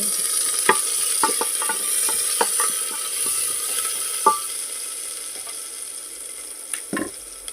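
Onions fry for a taro curry, a steady high sizzle broken by sharp scraping and clicking strokes of a spatula stirring the pan, close and without voices.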